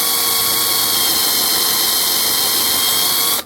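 A loud, steady power-drill whir runs without a break, close by, boring through soft clay pottery, then cuts off abruptly at the end.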